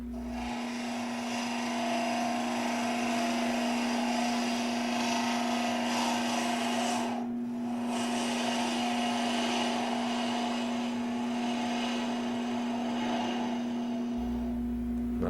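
A fingernail gouge turning a wooden capsule box on a lathe, rolling a radius across the top: a steady motor hum with a continuous scraping cut, loud and unbroken apart from a brief lift of the tool midway.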